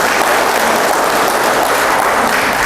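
A crowd of attendees at an evaluation meeting breaks into loud, dense, continuous applause that stays steady throughout, with no talk on top.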